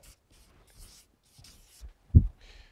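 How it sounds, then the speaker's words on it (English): Marker strokes on a board write four letters as a series of short, faint scratchy squeaks, with one louder low knock near the end in a quiet room. "I write those four letters up here"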